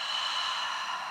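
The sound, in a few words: forceful breathing exhale during a foam roller exercise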